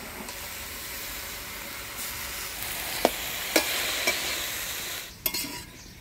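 Vegetables with salt and turmeric being stirred in a hot pan, a continuous hissing fry with a few sharp spatula scrapes and knocks, close, the sizzle dropping off near the end.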